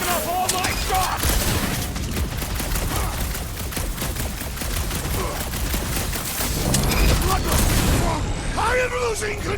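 Constant gunfire rattles through a Guardians of the Galaxy fight, rapid shots layered with impacts and booms, with shouted voices and combat chatter over the top throughout.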